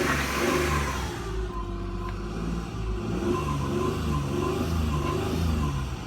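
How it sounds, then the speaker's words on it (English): A 2006 Ford Explorer with about 186,000 miles runs at a wrecking yard with its door open. The engine drones steadily and rises through several smooth revs, loud and close, with no one speaking. "Hear it rev up a little bit."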